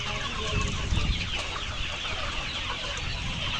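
Layer and pullet hens on a farm in Kushtia cluck in a busy, overlapping chorus of short calls, close and fairly loud, without any talk.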